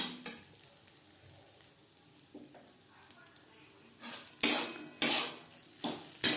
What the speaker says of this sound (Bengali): মিডিয়াম টু লো ফ্লেমে তিন চার মিনিট নাড়াচাড়া করে নেব